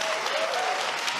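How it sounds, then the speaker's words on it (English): A studio audience on Hannity's Fox TV show bursts into dense, loud, continuous applause that holds steady before cutting off abruptly. "Why are they clapping?"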